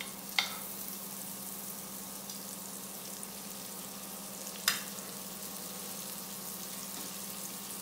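Gilafi kebab cooking in butter in a pan, a low steady sizzle under a constant hum, broken by two sharp utensil clinks, quiet and close with no voices.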